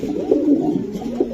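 A racing pigeon coos close by, a few soft low throaty rolling calls over a steady murmur.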